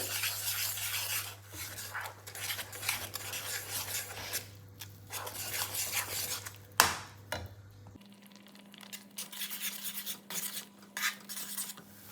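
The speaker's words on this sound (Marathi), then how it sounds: "पीठ घालताना सतत हलवायचं आहे म्हणजे गुठळ्या होणार नाहीये" Gram flour batter being stirred in a pan for patvadi, heard up close as continuous scraping and rubbing with a utensil, with one sharper knock, over a steady low hum.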